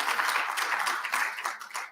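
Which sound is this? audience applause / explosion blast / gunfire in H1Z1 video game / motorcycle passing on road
audience applause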